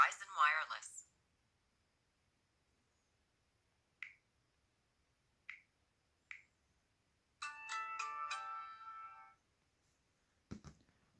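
A Verizon Wireless cell phone plays short alert chimes: three brief tones spaced a second or so apart, then a longer multi-tone jingle, with a bit of voice at the start and a clatter at the end.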